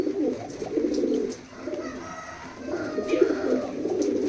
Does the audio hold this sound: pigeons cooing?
yes